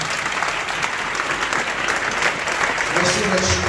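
Congregation clapping steadily throughout a Sunday worship and praise church service, dense sustained applause with voices rising near the end.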